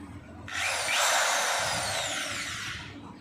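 A drill spinning a steel wire brush grinds carbon off a Pulsar 220 engine valve, starting abruptly and holding a loud, steady high-pitched whirring scrape to the end.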